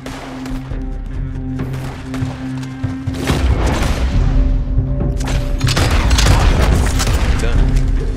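Gunfire in the game Red Dead Redemption 2: heavy booming shots and rumbling blasts over a steady humming background that build into a dense, loud barrage in the second half, with voices talking underneath.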